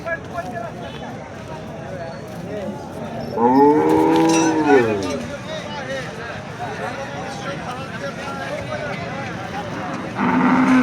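A crossbred cow lets out one long, loud, drawn-out moo amid a noisy outdoor crowd at the Sangola cattle market, with people talking and murmuring in the background.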